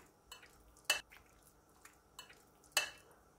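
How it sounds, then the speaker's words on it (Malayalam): Raw chicken being mixed with turmeric powder for chicken vindaloo gives sporadic spoon scrapes and sharp clinks against a bowl, several light taps between louder knocks, with no voices. "adilekku lesham manjal podi ittu namukku nannayittu thonnu mix cheythu eduthu vekkam"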